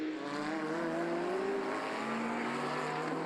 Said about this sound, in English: Down in towards the braking area for the Melbourne hairpin comes the McLaren Can-Am of Paul Bailey.